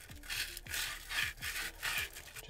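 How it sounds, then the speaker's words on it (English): Sandpaper rubs rhythmically back and forth on a golf club shaft tip, about five or six quick, close scraping strokes at moderate volume with brief pauses between them, alone without talk. "it does make it a lot easier using sandpaper just to sand it down, and you can sand down the tip as well"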